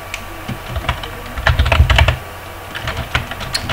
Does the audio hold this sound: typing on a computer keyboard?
yes